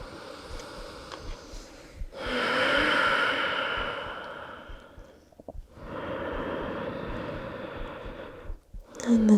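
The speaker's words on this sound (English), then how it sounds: "Enjoy the sound of your breath here." Slow, deep breathing during a yoga stretch, two long soft breaths with a pause between, faint and close in a quiet room.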